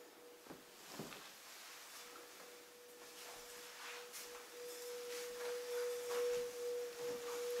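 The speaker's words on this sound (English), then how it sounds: "So Maureen also has got brass singing bowls." Brass singing bowl ringing with one steady, pure sustained tone, faint and close, over light background rustle and small knocks.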